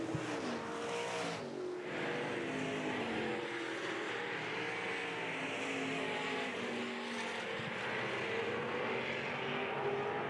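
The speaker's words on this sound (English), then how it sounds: "Tubbs, your leader, hustles the field on down the backside of the Speedway." IMCA stock cars race through a heat at RPM Speedway in Colby, Kansas. Their engines make a steady, distant roar of overlapping motors that rises and falls as the field runs the backstretch.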